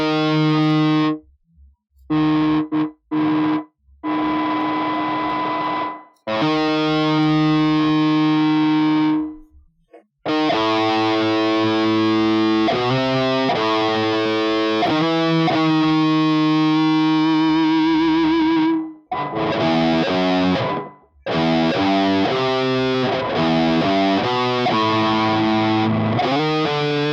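Electric guitar played through heavy distortion effects, loud sustained chords and riffs with abrupt cutoffs and brief silences between phrases, played alone.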